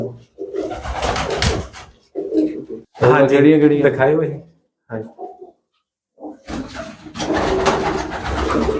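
Large pigeons coo close by in throaty, rolling bursts, separated by short silences, while people talk between and over the calls.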